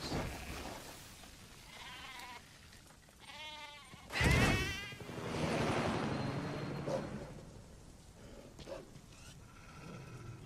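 A goat separated from its herd bleats in the video game Metal Gear Solid V, heard as a few wavering cries over soft ambient game sound, with someone talking faintly in the background.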